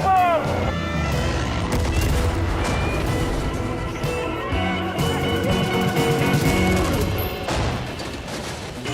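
Far Cry 5 combat in which a bomb blast and gunfire boom and crackle over a dense, loud mix of game music and effects, while a voice speaks throughout.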